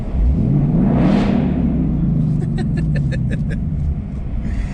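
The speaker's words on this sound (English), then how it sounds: "the valved exhaust truly makes this different" A Roush Mustang with a manual gearbox and valved exhaust gives a loud, deep rumble that swells as it revs through the middle of the run, then settles into a steady throaty drone.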